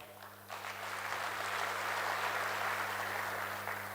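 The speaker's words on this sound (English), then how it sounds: "I would wish you add him another hand clap," Audience applause for a minister at a defence and security expo in Kampala, swelling after a moment into broad sustained clapping over a steady electrical hum, fairly distant.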